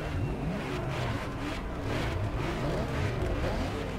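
A Lamborghini Diablo GT engine in The Crew Motorfest, droning loud and close with rising and falling revs as the car drives on, no voices.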